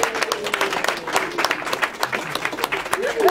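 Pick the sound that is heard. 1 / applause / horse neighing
applause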